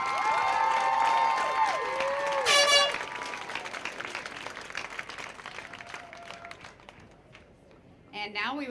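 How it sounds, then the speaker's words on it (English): Crowd applause at the 2012 North Hudson Pepper Festival coronation, clapping and cheering that swells briefly, then thins, with a horn-like blast and a voice over a PA. "Let's give them one more round of applause"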